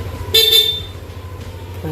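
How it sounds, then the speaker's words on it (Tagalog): A car horn honks once in a short, loud blast, then stops, leaving a low engine-like rumble in the background. "Pag naka-off, stock horn."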